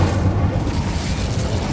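An Incendio fire spell blasting in Hogwarts Legacy, a loud whooshing roar with a deep booming low end that holds steady through its short length.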